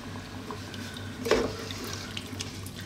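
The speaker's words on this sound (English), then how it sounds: "we're gonna add another half liter, so 1 liter in total of stock" Stock is poured into a pot for a slow-cooked Middle Eastern lamb stew, a soft continuous trickling stream with a brief louder splash partway through, quiet and close.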